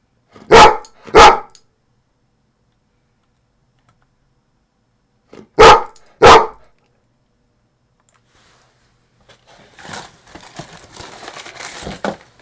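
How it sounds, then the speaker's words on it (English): Two pairs of sharp, loud dog barks close up, separated by a pause, followed by soft rustling and clicking noises. "I request you stop being a loud doggo."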